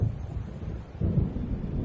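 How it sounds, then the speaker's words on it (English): Thunder rumbling from an approaching storm in a video game, a low continuous roll that swells louder about halfway through, with no voices. "It seems there's a storm coming."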